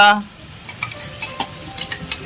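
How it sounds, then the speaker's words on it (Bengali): A spoon stirs chicken curry with green chillies, coriander leaves, cumin and chilli in a pan, giving light scraping clinks every few moments over a soft sizzle, close by with no talk. "লবণ দিয়ে কিছুক্ষণ নাড়তে হবে"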